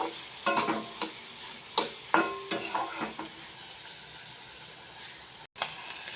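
Fish seasoned with salt and turmeric frying in a pan, a steady low sizzle punctuated by a run of sharp metallic scrapes and clinks of stirring, then a quieter stretch of plain sizzling with a brief cut near the end.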